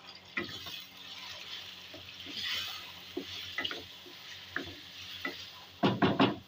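Chicken frying in a pan for a tomato and curd gravy as chopped tomato goes in, a soft steady sizzle broken by scattered stirring scrapes and a burst of sharper clattering knocks near the end.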